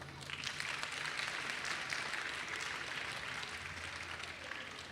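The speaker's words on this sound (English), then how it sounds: "A round of applause for them." Faint, steady applause rises from an audience at a Diwali function, a soft wash of many hands clapping at a distance, low in level and continuous throughout with a low hum underneath.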